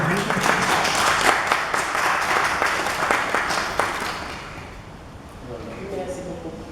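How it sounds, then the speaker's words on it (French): Audience applause at an award ceremony in Gorée, Senegal, as a tourism trophy is presented to the municipality: dense, steady clapping from a crowd that thins and fades toward the end, with some voices mixed in. "On va quand même applaudir."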